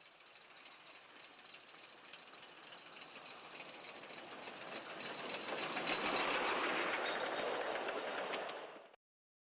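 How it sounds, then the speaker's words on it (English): A heritage railway railmotor rumbles past in Queensland with rhythmic clattering on the rails, swelling louder as it draws near before cutting off abruptly. "enjoy the sights and sounds of the Mary Valley Heritage Railway"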